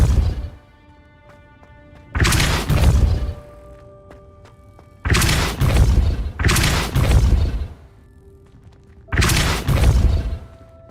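The Depulso spell cast repeatedly in the Hogwarts Legacy video game, each cast a loud forceful whooshing blast lasting about a second, three or four times in a row with quiet gaps between them.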